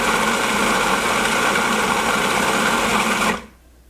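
A food processor blends hummus made without tahini, a loud, steady motor whir that runs unbroken and then stops abruptly near the end, leaving quiet.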